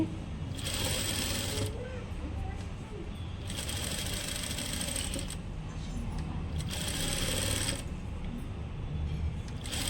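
A sewing machine stitches piping onto a blouse, running steadily for about ten seconds with three louder bursts of fast stitching, close and continuous, with no talking over it.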